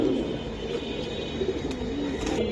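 An aluminium silver pigeon coos close by, a low throaty warbling repeated over a faint steady background hum, with no talking.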